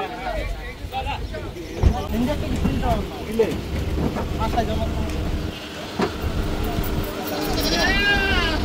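Goats bleat amid a busy, noisy outdoor scene at a Qurbani animal purchase, with people talking and engine rumble in the background.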